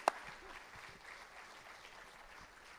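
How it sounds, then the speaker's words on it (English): Applause from the audience at an annual mountain dance and folk festival, a steady distant crackle of many hands clapping that holds evenly throughout, opening with one sharp louder clap. "please give them a round of applause"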